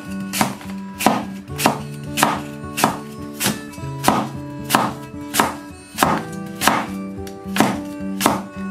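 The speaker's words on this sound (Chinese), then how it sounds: "用菜刀把苹果给它一分为二，把苹果我们给它切成片，切的片稍微薄一点" A kitchen cleaver slices a washed apple into thin pieces on a board, with about sixteen crisp, evenly spaced chops in a steady rhythm, close and clear.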